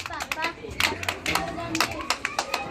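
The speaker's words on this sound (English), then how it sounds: "Clap yourselves." Children clapping for themselves in a classroom reading lesson: a burst of quick, uneven handclaps close by, mixed with children's voices and chatter throughout.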